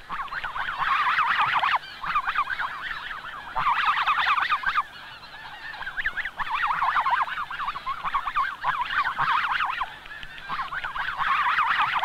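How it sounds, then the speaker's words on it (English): Wild snow geese call insistently to one another in dense overlapping bursts of honking that swell and ease several times, loud and close with no voices. "In the background, the wild geese talk insistently to each other"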